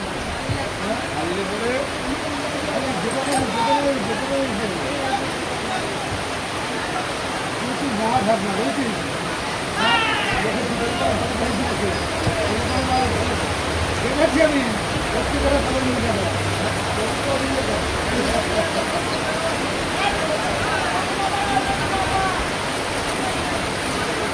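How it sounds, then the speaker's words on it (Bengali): Steady rain pours down during an outdoor football game, a dense continuous hiss filling the whole stretch with faint voices underneath. "বৃষ্টিও নেমেছে সেই রকম।"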